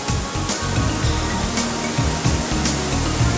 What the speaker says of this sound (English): The Dettifoss waterfall contains more water than any other in Europe.